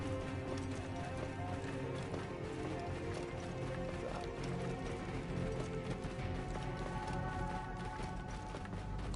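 A horse galloping in Assassin's Creed Origins, a rapid, even hoofbeat rhythm under a loud, steady bed of game music and ambience with no talk.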